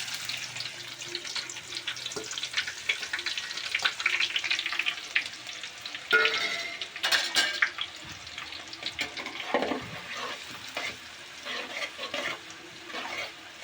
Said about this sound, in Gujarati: અને હવે આપણે ડુંગળી નાખી દઈશું.